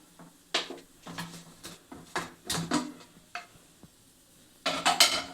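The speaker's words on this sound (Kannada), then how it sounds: "ಈಗ ಕುಕ್ಕರ್ ಮುಚ್ಚಳು ತೆಗಿತಾ ಇದ್ದೀನಿ" Metal clanks and clicks in irregular bursts as a cooled pressure cooker's lid, over cooked lentils, is twisted and lifted, with scraping and knocks of cookware.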